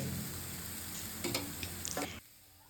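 A broccoli mix sizzles and fries in a pan with soft scraping stirs and a few clinks of a spoon, then the sound cuts off to quiet.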